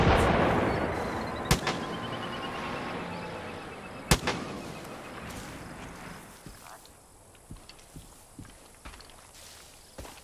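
Gunfire in Far Cry 5: two sharp, loud single shots ring out over a fading rumble, followed by lighter scattered clicks and thuds, with faint game voices in the background.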